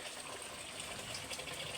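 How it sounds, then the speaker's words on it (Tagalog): Steady rushing water of a stream flowing over rocks, a broad wash of sound with no pauses and no voices. "yung tubig dito sa bato. Yan, maagos siya."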